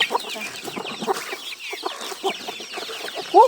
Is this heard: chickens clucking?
yes